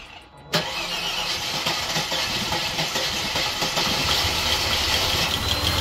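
A Subaru car engine with a newly replaced starter cranks for a split second, then catches and fires. It settles into a steady, rough, close running idle that continues to the end.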